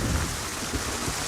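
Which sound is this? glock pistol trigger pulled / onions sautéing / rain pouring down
rain pouring down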